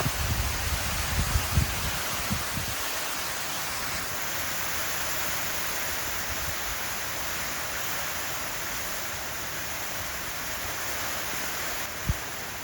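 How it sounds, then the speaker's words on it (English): Hail falling during a sudden late-winter storm, slushy pellets mixed with snow, a steady dense broadband hiss like heavy rain on surfaces that runs unbroken throughout, with a few soft thumps near the start. "Now it's hailing."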